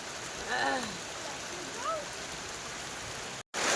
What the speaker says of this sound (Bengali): ঝড় বৃষ্টি হচ্ছে।